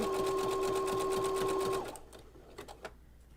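A household sewing machine fitted with a binding presser foot stitches in a fast, even whir for almost two seconds, close and clear. It then stops and a few faint clicks and handling sounds follow.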